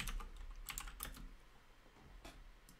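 Computer keyboard being typed on, quiet scattered clicks in short clusters at close range, with no voices.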